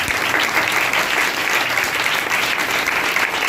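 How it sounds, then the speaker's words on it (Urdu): Church congregation clapping together during a Pentecost service, a continuous, even burst of many hands applauding at close range with no talk over it. "آئیں جو آئندہ کی خبریں دیتا اس کو تالیاں بجا دیں"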